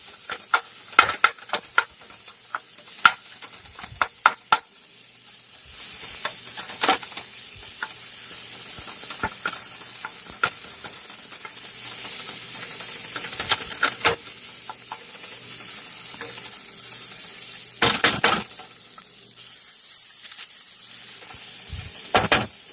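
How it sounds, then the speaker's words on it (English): Vegan chorizo, squeezed from its plastic casing, sizzles in a hot pan with little oil while being broken into crumbles, a steady hiss punctuated by sharp scraping and tapping of a utensil, close up. "Into the hot pan. I'm going to kind of make crumbles."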